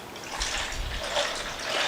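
Stock poured into a pot while cooking beef and noodles, a brief close splashing, trickling rush of liquid lasting under two seconds.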